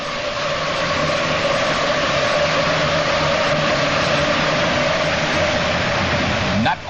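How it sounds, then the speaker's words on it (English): A John Deere 4430 tractor at a tractor pull, its engine roaring loud and steady with tires spinning, under a continuous wash of crowd and arena noise with announcer talk. "The John Deere 4430, the tires are spinning."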